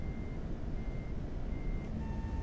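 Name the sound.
truck reversing beeper inside the cab, American Truck Simulator video game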